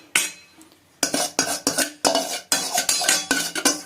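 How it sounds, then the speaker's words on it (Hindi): Crushed Oreo and Hide & Seek biscuit crumbs poured into a bowl for an eggless chocolate truffle cake make a series of sharp, close rattling clinks and scrapes in quick bursts after a brief pause. "इसी के साथ मैं ले लूंगी हमारे ओरियोज और हाइड एंड सीक का चूरा जो हमने करा था अभी मिक्सी में। तो इसको मैं इसमें पोर कर देती हूँ।"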